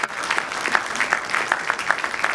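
An audience at a women's special event in the DRC applauds, with many hands clapping in a brisk, even, close burst.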